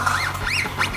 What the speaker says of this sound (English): All the birds are coming out.